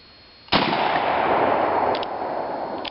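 A Mossberg 590A1 12 gauge shotgun fires one 2¾-inch Drylock steel shell of number 2 shot at about 5 meters, a single loud, close blast with a long, roaring tail that slowly fades.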